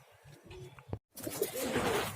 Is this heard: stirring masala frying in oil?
no